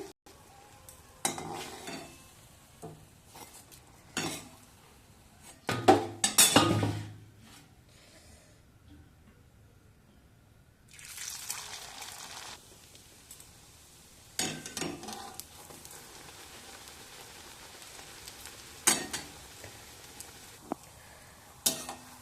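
Chira and atta luchi fry in ghee in a kadai under a low sizzle, broken by scattered bursts of stirring and scraping clatter, with a quiet stretch midway.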